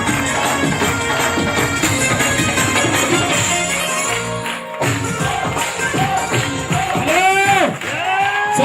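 Large crowd at a public gathering clapping and cheering in honour of someone, a dense, loud, sustained wash of applause with shouts and whoops over the top, and voices rising through it.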